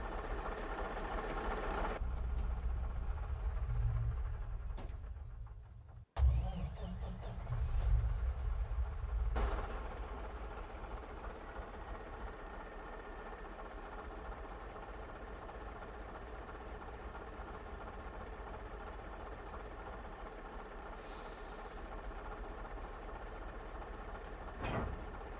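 A truck engine runs in Farming Simulator 25, a low steady drone that surges loudly at first, breaks off briefly, then settles into a softer continuous idle.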